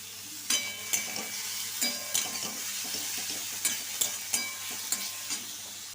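Chopped onions and tomatoes fry in a hot wok, a steady sizzle broken by regular scraping stirs of a spatula against the metal, close and alone with no talk.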